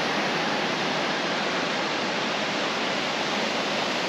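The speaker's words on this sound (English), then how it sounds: "These are some falls." Waterfalls on Umauma Stream in Hawaii, viewed from a bridge, pour with a steady, dense broadband rush of falling water that stays constant and loud throughout, with no voices.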